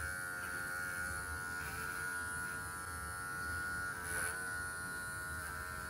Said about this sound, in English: shave this whole bottom off